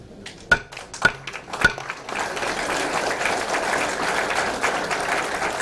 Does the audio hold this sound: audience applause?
yes